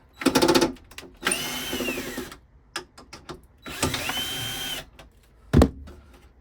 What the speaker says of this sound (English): it's a case of, I think, unscrew it from here